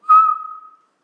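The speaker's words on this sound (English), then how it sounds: "He had to suck in and whistle." A single short whistled note, drawn in on the breath, rising sharply then fading out within a second.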